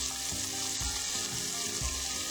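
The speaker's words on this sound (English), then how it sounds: "you're going to add it to about 2 teaspoons of the oil that you cook the balls in to saute them" Onion and garlic sautéing in a few teaspoons of oil left from frying meatballs, giving a steady, close hiss of frying with faint stirring bumps.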